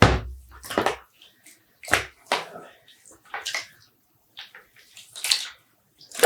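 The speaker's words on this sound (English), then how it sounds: "squeeze out some of the excess water so I don't make a mess when I transfer it to the other pan" Freshly dyed, soaking-wet mohair yarn is squeezed by hand over a dyeing pan, giving several separate bursts of splashing and trickling water, close by, with quiet pauses between squeezes and no speech.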